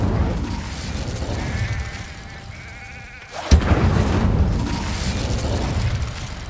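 An Incendio fire spell goes off in Hogwarts Legacy as a sudden sharp blast that gives way to a sustained roaring whoosh, following a quieter stretch of ambient game sound.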